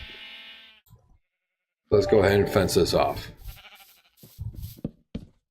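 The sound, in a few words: sheep bleating in Minecraft video game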